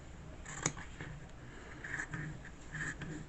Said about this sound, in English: I'm just going to use regular scissors with it laid here on the fabric